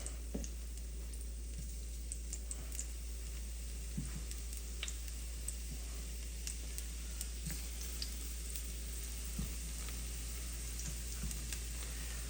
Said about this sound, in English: we're gonna go ahead and begin searing these until we get a nice golden brown color